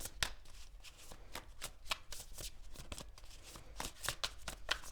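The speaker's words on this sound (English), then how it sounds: "I feel like I need to shuffle really well for this Tower." Tarot cards are shuffled continuously with quick, crisp riffling and slapping strokes, close up and fairly soft, with no talking.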